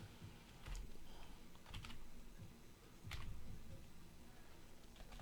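Typing on a computer keyboard, a run of soft, rapid key clicks in short bursts, close but quiet over a faint steady background hum, with no talk.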